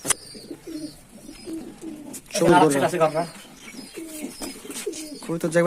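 Pigeons cooing in a loft: soft, repeated throaty coos close by, rising and falling throughout, with a burst of louder calls midway and voices talking in the background.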